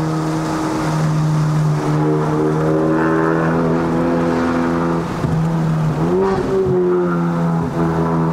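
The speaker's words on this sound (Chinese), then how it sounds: "你会发觉到那个 turbo lag 会比较多一点点哦，要等一下那个 boost 才会来两下" A turbocharged 353 whp Honda Civic Type R FK8 accelerates hard on a mountain road in Malaysia. Its engine drones loud and steady with rising and falling revs and a brief dip around a gear change, and no voices are heard.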